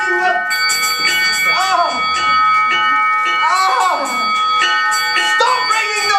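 Doorbells ring repeatedly in bright, sustained peals with a ringing tone, loud and close, while a voice cries out briefly.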